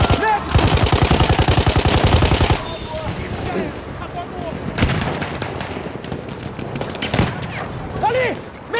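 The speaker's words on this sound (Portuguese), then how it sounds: "Ali! Metralhadora inimiga!" Rapid bursts of enemy machine gun fire in Battlefield 1, a dense rattling volley up front, then scattered gunshots and distant battle noise with shouting voices throughout.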